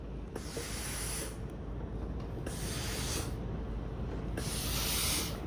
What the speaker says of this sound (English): now I'm gonna just press gently over, adding a little bit of steam